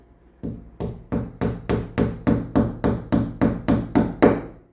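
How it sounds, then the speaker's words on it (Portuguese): Hammer blows drive a plastic wall plug into a wall to mount a Yoosee security camera: a run of about twelve steady, evenly spaced, sharp close knocks with no talk over them. "Aí aqui você pega um martelo, vem aqui, ó, faz assim pra entrar."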